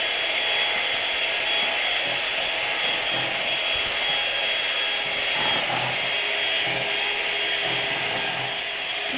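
An electric mixer runs on high speed through cake batter for a strawberry coconut tres leches cake, a steady, continuous whir with a light rubbing texture and no talk.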